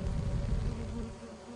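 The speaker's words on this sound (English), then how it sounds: "It's bees. They will kill us." Bees swarm in the Lethal Company video game, a steady low droning buzz that holds at moderate loudness throughout with no voices over it.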